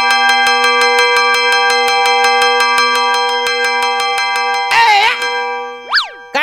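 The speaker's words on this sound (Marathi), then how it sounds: "काय घंटी वाजाडतो रे." A hand bell rings on a Marathi comedy stage show, striking in rapid, even, bright dings for about four and a half seconds before giving way to brief voices.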